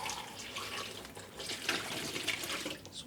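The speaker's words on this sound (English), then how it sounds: "And I'm adding in the water." Water poured into a tub of dye for dyeing coral-reef-inspired yarn at home, a steady splashing, running flow close by, with a sharp knock at the very end.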